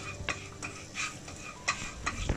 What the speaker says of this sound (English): So we'll let the oil infuse the garlic for about 5 minutes.